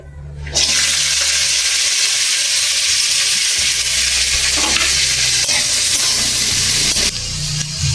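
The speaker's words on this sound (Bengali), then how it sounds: "তেল গরম হয়ে গেছে, সবজিগুলো সব একসাথে ভেজে নেবো হালকা করে" Vegetables for gravy chowmein hit hot white oil with a loud, continuous hissing sizzle that starts abruptly and holds steady, fading slightly at the close with faint low rumble underneath.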